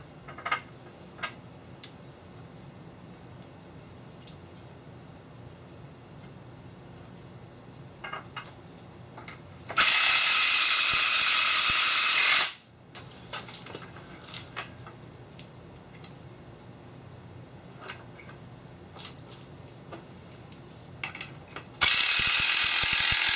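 A ratchet tightens bolts on an IKEA motorized bed base with scattered clicking and ticking, broken by two loud stretches of buzzing motorized whir, nearby and alone without talk.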